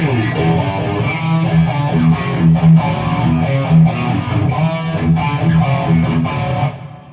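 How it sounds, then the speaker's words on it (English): Distorted electric guitar chords through a phaser effect ring out continuously with a swirling, sweeping tone, loud and close throughout before trailing off at the end. "let's add a phaser with a little"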